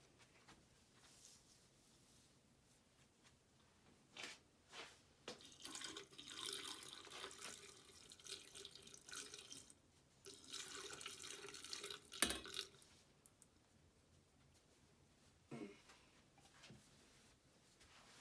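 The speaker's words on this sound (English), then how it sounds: "take a hot thing of water, pour it down the drain so you can get all the chemical out" Hot water is poured down a clogged sink drain after a baking soda and apple cider vinegar treatment, producing bursts of rushing, gurgling water between quieter pauses, with no voices.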